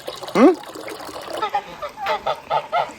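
Several goose honks ring out, a loud one first and then a run of shorter honks, with water trickling and faint voices mixed in.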